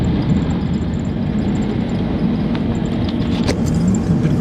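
A Toyota Hilux drives along the sandy Sandy Blight Track at about 40 km/h in fourth gear, its engine a steady, close, low rumble mixed with road noise and occasional light knocks, without speech.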